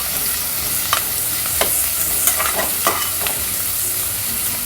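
A handful of cashews sautéing in a pan for coconut rice, a steady close sizzle punctuated by several light clicks and scrapes of stirring.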